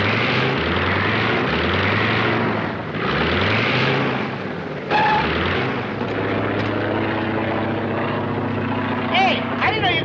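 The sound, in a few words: propeller airplane flying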